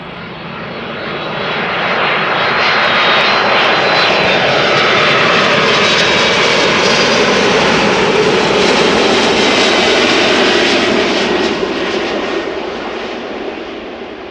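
Passenger jets arriving on runway 06, the Kaagbaan, at Amsterdam Schiphol Airport: a loud, sustained engine roar swells in over the first seconds, holds steady for most of the stretch, then eases slightly at the end, with no talk.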